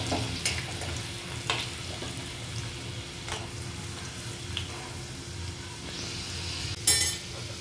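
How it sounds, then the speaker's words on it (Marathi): Garlic browning in hot oil for a cabbage bhaji sizzles softly while a utensil stirs with a few light scrapes and clinks, ending in a sharper metallic clink. "लसूण आपल्याला लाल होऊपर्यंत, ब्राऊन कलर होऊपर्यंत चांगला फ्राय करायचा आहे त्यात"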